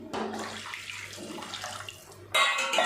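Water is poured into a pot of Tamil omam rasam being prepared with tamarind water, turmeric and salt, a steady splashing stream that briefly pauses and then resumes louder.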